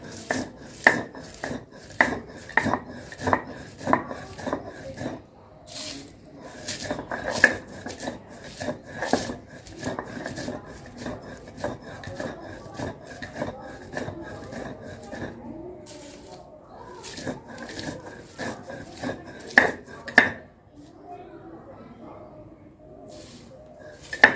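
Cooled, roasted ingredients are ground into a paste by hand. Close, rhythmic strokes repeat steadily, broken by short pauses near five and sixteen seconds, with a softer rubbing texture near the end.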